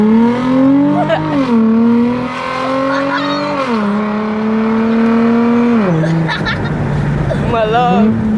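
A car's aftermarket exhaust revs hard and close, its engine pitch stepping up and falling back several times, with voices chatting over it.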